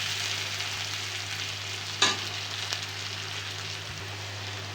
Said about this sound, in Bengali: আমি আবারও পেঁয়াজটি ভাজতে থাকব।